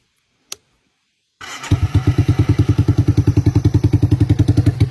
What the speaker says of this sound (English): this thing is a good running machine. There's no muffler on it right now